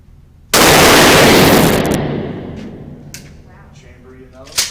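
One shotgun blast fired outdoors, sudden and very loud up close, its roar trailing off over about a second and a half, followed by a few faint clicks and rustles.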